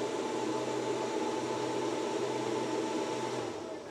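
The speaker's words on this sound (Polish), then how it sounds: "Włączyły się wiatraki." Inverter cooling fans running inside a camper, a steady loud whirring hum that holds evenly and then drops off slightly near the end, no talking.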